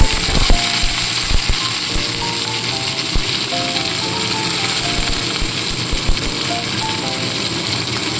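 Sliced onion fries in hot oil in a wok with a steady, loud sizzle and crackle, while scattered clinks and scraping ring out over it.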